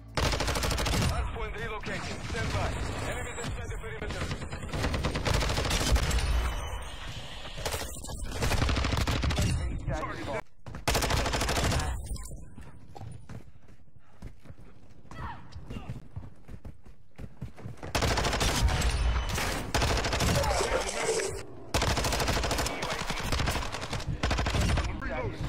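Rapid bursts from a Vaznev 9k submachine gun in Modern Warfare II / Warzone 2, loud and repeated across the stretch with brief gaps, mixed with game effects and talk.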